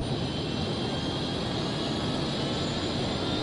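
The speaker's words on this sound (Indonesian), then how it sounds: "Suara mesin berubah." The Gun Speeder aircraft's engine gives a steady, loud, broadband roar, a continuous whooshing hum alone with no speech.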